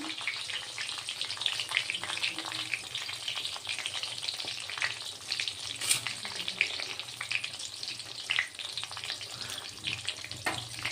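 Lentil dumplings (bori) frying in hot oil, a steady close sizzle with faint stirring scrapes running throughout without a break.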